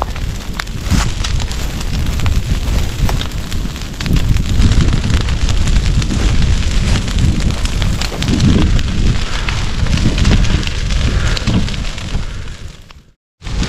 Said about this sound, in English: it didn't take much to set them on fire